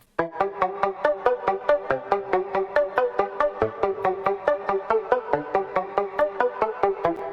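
Bright synth arpeggio from the intro of a track, a fast, even stream of plucked repeating notes cycling a short melodic pattern, steady and clear with no voices.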